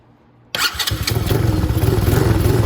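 Venom Grizzly 125cc ATV engine catching abruptly after silence and settling into a close, loud, rapidly pulsing idle with a slight rise in revs.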